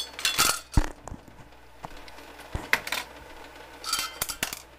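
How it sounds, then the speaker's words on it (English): A glass canning jar is lifted from hot water, emptied and set on a plate in a small home kitchen, making clinks and clatters of glass and crockery with splashing, in irregular bursts, close by. "I lift a jar out, pour the water out, and set it on a plate to catch anything I might drip."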